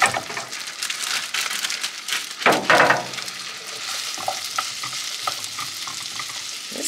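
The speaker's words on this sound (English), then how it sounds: "And now we're gonna add our pearl onions." Pearl onions frying in foaming butter give a continuous bright sizzle, with a louder burst of spattering as they hit the pan and steady crackling afterward.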